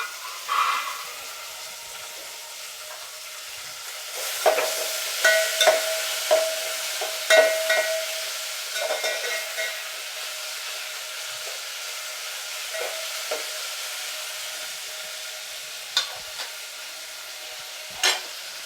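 Tomatoes sizzle in hot oil in a pan for homemade vegetable biryani, with a soft steady hiss broken by repeated scraping stirs and clinks of the spoon, close and moderately quiet.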